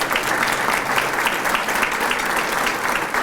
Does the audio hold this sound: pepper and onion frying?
no